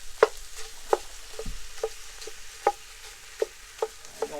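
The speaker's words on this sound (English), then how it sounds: "We're going to brown this meat really good" Breakfast sausage and bacon browning together in a pan, a soft steady sizzle broken by sharp clacks of a utensil scraping and stirring at irregular intervals.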